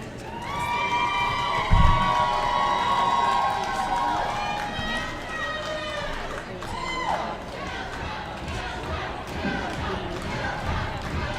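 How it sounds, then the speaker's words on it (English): A crowd cheers and chants for the Maelstrom team at a Battle of Bunker Hill roller derby game between Mass and NYSE. The noise is a steady, distant, echoing arena roar with shouting voices layered over it and one brief thump. "now we've got a cheering chant for the Maelstrom going on over here"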